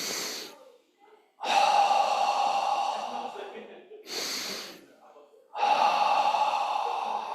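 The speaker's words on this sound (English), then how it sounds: "I would inhale here. I just inhale and then go, and then go." Slow, deep qigong breathing: long, audible breaths rushing in and out close to the microphone, alternating with short pauses between them.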